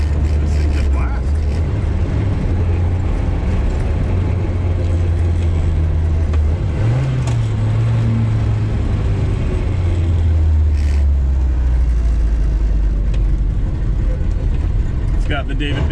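A 1960 Austin Countryman with a remote gear change and non-synchro first gear drives on a test run after a tune-up, its engine droning loud and close with shifts in pitch as it changes speed.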